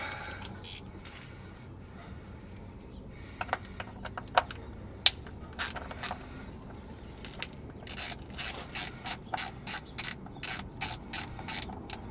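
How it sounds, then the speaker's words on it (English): A wrench with a T25 bit ratchets on a 68RFE transmission, with sparse metallic clicks at first, then a quicker run of close ratcheting clicks toward the end. "got ourselves a T25 bit right there. Just need a wrench."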